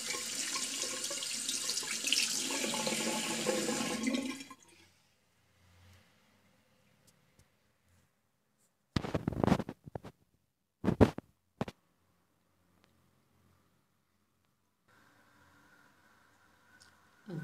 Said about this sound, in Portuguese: Depois de aplicar, é só pegar e enxaguar.